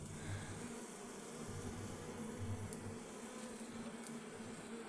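Young bees in an observation hive make a steady, close, continuous buzzing drone, with no voices over it.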